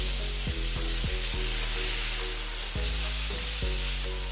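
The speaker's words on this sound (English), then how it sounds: "Now, I'm going to give it a stir for the third time." Sweet potatoes and sausages sizzle loudly in a hot pan, a constant frying hiss broken by several clattering scrapes and taps of a utensil as the food is stirred, with no voices.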